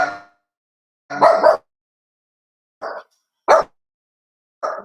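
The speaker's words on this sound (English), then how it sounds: "I apologize for the dog barking." A dog barks several times with pauses in between, the barks loud and close, with short gaps of silence.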